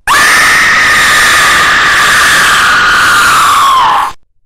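Loud, piercing scream from the horror game Sonic.EXE: The Creepypasta Remake, one sustained shrill, distorted wail lasting about four seconds before cutting off abruptly, with no talking.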